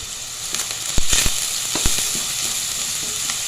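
Chopped onions with salt and turmeric powder sizzling in a pan, a steady close frying hiss broken by several sharp crackles and pops, with no talking.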